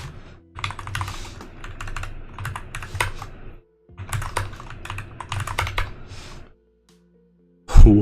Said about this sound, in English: You can hear me typing, but you can't hear me?